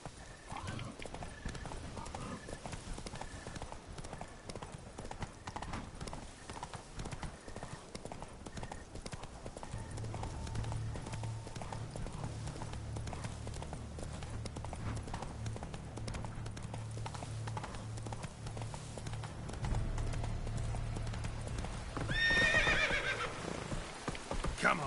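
Roach, a horse in The Witcher 3: Blood and Wine, clip-clops at a steady gallop for a long stretch, with a whinny near the end and a rain-like wash behind the hooves.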